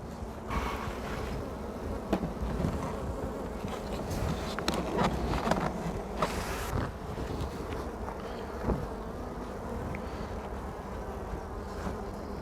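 Honey bees buzz steadily at an opened hive during a spring inspection, a dense continuous hum close by with a few sharper passes as individual bees fly near, and light wind in the background.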